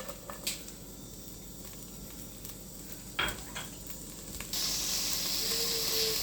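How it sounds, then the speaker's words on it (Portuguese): Chopped onion goes into a pan over the browned shrimp fond left for a shrimp risotto, starting as a faint hiss with a few soft clatters and then swelling into a loud, steady sizzle. "Vou dourar essa cebola aqui nesse fundinho"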